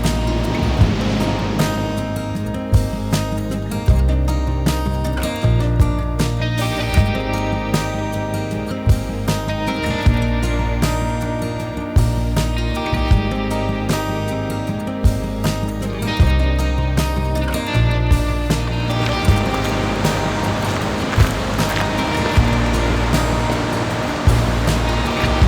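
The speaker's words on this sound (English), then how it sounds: "Really simple, very lovely mountain creek scene." Mountain creek water flowing steadily along a trail toward a lake, a continuous rushing wash heard close and fairly loud throughout, with no talking over it.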